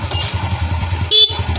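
A motorcycle horn running on a LiFePO4 32650 battery pack gives one brief, close honk against a low background hum.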